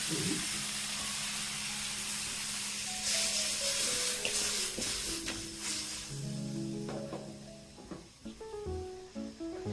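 Loitta fish hissing and sizzling in hot oil in a pan, a steady broad hiss with clinks and clatters of utensils, loud and close, with no voices.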